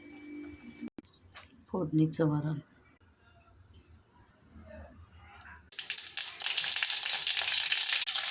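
After a brief voice and a few soft clicks, a loud sizzle suddenly bursts up as garlic, curry leaves, turmeric and asafoetida hit hot oil for tempering dal, and keeps hissing steadily.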